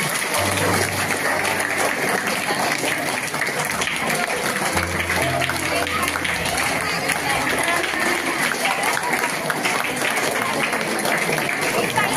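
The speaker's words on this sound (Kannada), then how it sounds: "ಸನ್ಮಾನ ಮುಗಿಯುವವರೆಗೂ ಚಪ್ಪಾಳೆ ತಟ್ಟುತ್ತಾ ಇರಬೇಕು." Devotees at a felicitation ceremony clap steadily and densely throughout, a continuous crowd-wide patter with low rumbling and background noise mixed in.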